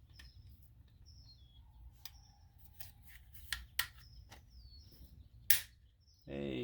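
Sharp mechanical clicks from cocking a toy pirate flintlock gun, with one loud snap near the end, set against steady low background rumble and scattered bird chirps.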